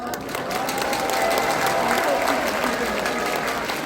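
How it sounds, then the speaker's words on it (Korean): Steady, dense applause from an audience at a legal lecture fills the full length, loud and even with no pauses. "함께 박수를 보내주십니다"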